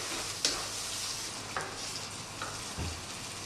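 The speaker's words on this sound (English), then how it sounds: "we're going to add a couple of heaped tablespoons of tandoori masala powder and we're going to stir that through to cook that out" Tandoori masala powder sizzles in a pan as it is stirred, with a constant hiss of frying and a few soft scrapes and taps of the spoon against the metal. It sits close and steady, with no voices.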